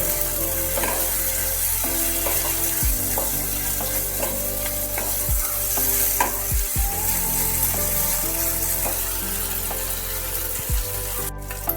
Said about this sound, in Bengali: ভালো করে একটু কষাতে হবে